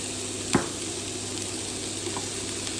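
Peppers hiss and crackle in a hot pot after garlic, a steady low sizzle with a single sharp clack of a utensil near the start.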